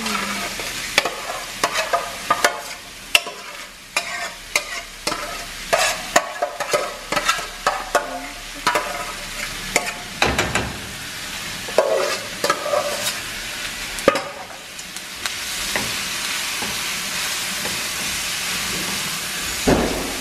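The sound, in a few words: shrimp and bacon sautéing in a pan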